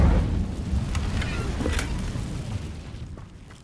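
An Incendio fire spell bursts in Hogwarts Legacy with a loud whooshing boom that rumbles and fades over a few seconds amid other game sounds.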